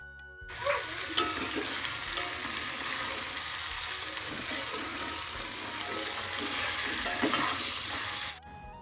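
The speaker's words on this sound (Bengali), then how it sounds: "ওই চিকেন রান্না করব আর শুধু করলা ভাজা করব" Chicken cooks and bitter gourd fries in a home kitchen, a steady sizzle with stirring scrapes and a spell of running water, moderately loud and close, with no talking.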